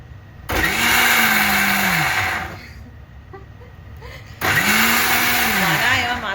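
A kitchen juicer blender whirs loudly in two bursts of about two seconds each. Each burst spins up, holds a steady high whine, and winds down, with a quiet gap between them and a voice talking in the background.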